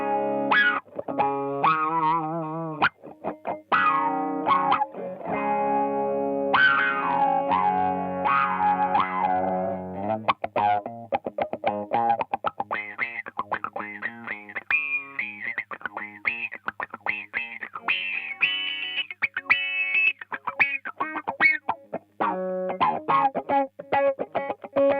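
An electric guitar played through a Guyatone WR2 Wah Rocker wah pedal, switched on, sweeps with vocal, filtered tones and some distortion; loud, close, busy phrases of sustained notes and quick picked runs, no talk.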